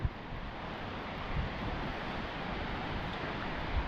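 Continuous broadband roar of rough sea surf mixed with wind noise, steady and unbroken with no talking.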